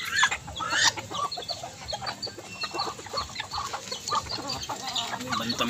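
Bantam chickens cluck in a small backyard, a flock giving repeated close clucks and short squawky calls, with one louder burst near the start and continuous overlapping chatter after.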